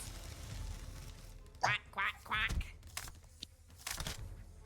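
A big duck in the video game Split Fiction gives three loud, raspy quacks in quick succession over a low game background, followed by a couple of fainter squawks.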